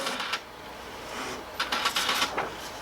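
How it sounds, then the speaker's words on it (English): A SawGrass SG500 sublimation printer loading ink for the first time, giving a faint mechanical whir, then a run of quick clicking and ticking bursts from its inner workings. "Loading ink for the first time."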